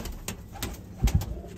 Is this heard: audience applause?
no